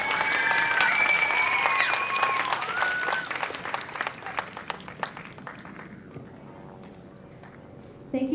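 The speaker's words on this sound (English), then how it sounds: "could we have a round of applause for our fabulous music teacher?" A school spring band concert audience gives loud, dense applause for the music teacher, with scattered cheers and voices mixed in. The clapping thins out and fades after about six seconds, leaving quieter room sound.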